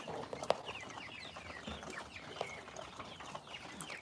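Chickens on a Thai farm around their coop cluck and call intermittently at moderate distance, with a couple of sharp louder squawks over a quiet outdoor background.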